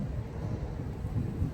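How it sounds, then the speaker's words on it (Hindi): Monsoon rain falls outside during a casual daily vlog, a soft, steady low rumbling wash of rain and wind with no voices, fairly faint and continuous throughout. "बारिश पड़ रही है, बहुत सुंदर लग रही है।"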